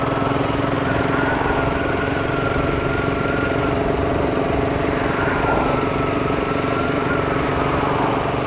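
A steady, rumbling BSA Gold Star motorcycle engine runs continuously at close range, with a throbbing low-pitched drone and no voices.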